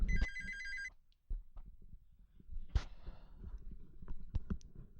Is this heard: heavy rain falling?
no